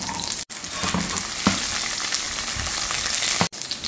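Garlic sizzling steadily in plenty of hot oil for adobo squid, a dense continuous frying hiss with a few brief dropouts and occasional stir clatter, close and fairly loud, no talking.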